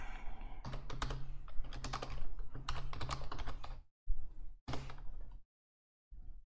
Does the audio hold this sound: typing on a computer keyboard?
yes